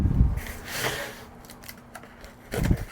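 Box being cut open during assembly of a 36-inch tabletop propane fire pit, a few short scraping and slicing bursts at the start, middle and end, fairly quiet and close.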